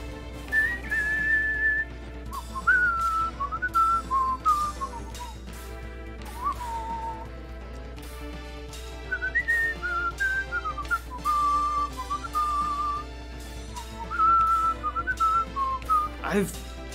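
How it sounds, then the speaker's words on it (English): A person whistles melodic phrases along with rhythm-game music from Theatrhythm Final Bar Line, clear bright tones rising and falling over a steady musical backing, with brief pauses between phrases. "Whistling through the whole track."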